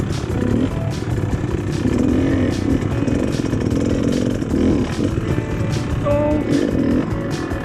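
A Beta Xtrainer dirt bike engine buzzes close and loud as it picks through tight enduro trail turns, with revs rising and falling, throttle blips and rattling clatter from the chassis.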